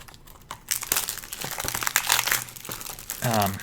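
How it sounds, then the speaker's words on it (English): Crinkling, crackling plastic shrink wrap is peeled and torn off a boxed movie release close to the mic, in busy bursts of rustling, with a voice briefly speaking near the end. "let me get the plastic off and then I'll show you the art here."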